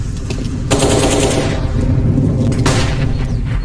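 Loud gunfire from a CS:GO professional match between FaZe and Furia with AK rifles, sustained bursts of rapid shots dominating throughout, with sharp crack onsets near the start and again near the end, no talk.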